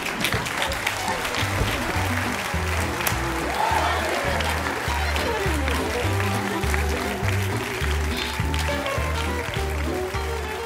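Audience applause on a Spanish-language late-night variety show stage, steady dense clapping sustained throughout over a loud, rhythmic band playing underneath.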